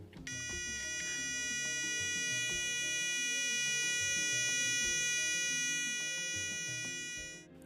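A battery-powered electronic oscillator circuit gives off a steady, buzzy electronic tone with bright harmonics. It starts abruptly and holds unchanged for about seven seconds at moderate level before cutting off, with faint irregular clutter underneath.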